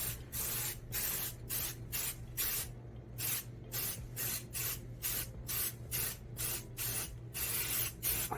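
Rust undercoating sprayed from an aerosol can onto the underside of a Suzuki Samurai during restoration: a long run of short, even hissing bursts, each about a third of a second with brief gaps, close and steady over a low background hum.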